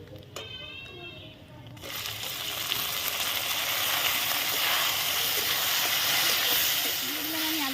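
Chopped tomato dropped into hot oil with fried onions bursts into loud, steady sizzling that swells and holds close for several seconds, preceded by a brief quieter moment of a voice.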